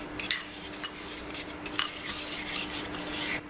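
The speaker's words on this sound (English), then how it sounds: "Now I got the sugar and butter, and I'm just gonna mix it up like this." Sugar and butter are stirred together in a bowl, a utensil scraping and clinking against the dish in quick irregular strokes, close and fairly quiet with no talk.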